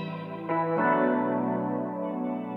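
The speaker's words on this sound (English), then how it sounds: "So I layered these guitar licks from Splice with these effects." Sampled guitar licks layered with echo and reverb for a spacey, ambient feel: a few plucked notes bloom into a washy, sustained tail that slowly fades, with no talking.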